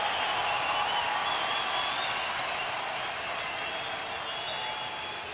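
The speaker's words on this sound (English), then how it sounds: "And here comes the crowd." Baseball stadium crowd at a Devil Rays vs Tigers game, steady roaring cheer with a broad wash of noise holding loud throughout and easing slightly at the end.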